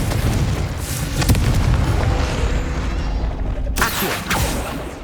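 Confringo fire spell from Hogwarts Legacy: a loud, sustained booming blast with rumbling bursts, then a second sharp explosive crack near the end.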